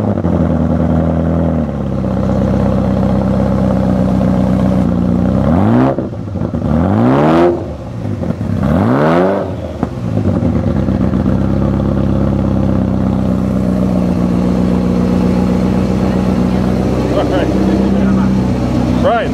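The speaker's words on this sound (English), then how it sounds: "It sounds really awesome with this exhaust, too. It's a wide open LM exhaust." A Ferrari F40 with a wide-open LM exhaust revs hard, with several sharp rising and falling blips over a loud, rough idle, close and dominant, settling back to a burbling idle.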